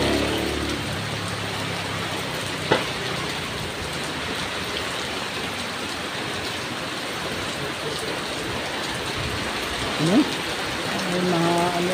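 Heavy rain with strong wind outdoors in a storm, a steady loud wash of downpour throughout, with faint voices briefly heard under it.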